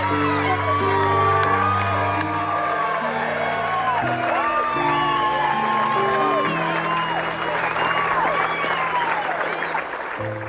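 A golf gallery cheers and applauds Phil Mickelson's winning putt, with sustained loud clapping, whoops and shouts from a large crowd, while a musical score plays underneath throughout.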